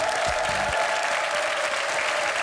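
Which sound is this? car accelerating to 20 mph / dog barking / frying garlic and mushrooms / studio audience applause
studio audience applause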